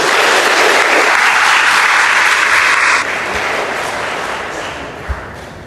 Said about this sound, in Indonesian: Tepuk tangan dong kalian semua.